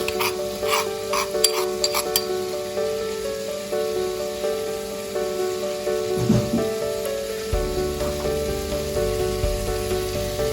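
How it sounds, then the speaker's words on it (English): Crushed garlic goes into a pot for a Jamaican seafood boil, giving a steady soft sizzle with light stirring scrapes and a few clinks near the start, with no voices. "We're going to add our garlic, or crushed garlic, guys."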